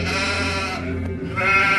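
Sheep and goats bleating on a farm, a couple of drawn-out cries heard with some distance, moderately loud, alone without any talking.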